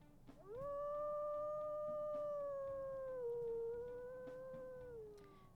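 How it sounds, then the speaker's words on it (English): A single sustained wolf howl from the WolfQuest video game, a clear high-pitched tone that rises quickly, holds steady for several seconds and slowly falls away, loud and alone with no talk. "let's go ahead and we'll listen to her howls as well"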